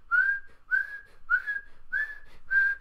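A voice whistles in imitation of a football referee's whistle during a Champions League match, five sharp rising blasts in a steady rhythm, loud and close with nothing else around them.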